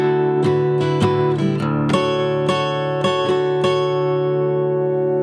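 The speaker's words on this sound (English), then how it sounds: "Jumping into that intro section at full speed, it'll sound like this. Here's the riff." Acoustic guitar in drop D tuning plays the intro riff of a song, with ringing strummed and picked chords, a low drone, and quick hammered notes in a lilting rhythm, close and alone with no speech.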